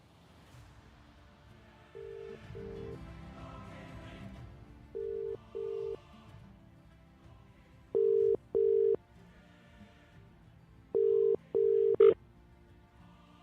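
Phone dialing tones and ringback tones while placing a call, heard as paired steady beeps repeating at regular intervals over quiet background music, ending with a brief click as the line connects.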